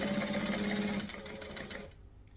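Sewing machine stitching with its bobbin thread running low, a rapid, even mechanical whir close by that fades quieter toward the end.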